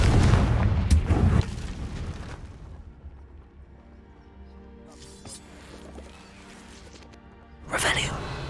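A Confringo blasting spell goes off in the Hogwarts Legacy video game with a heavy booming burst that decays into a rumble, followed later by a second crashing blast.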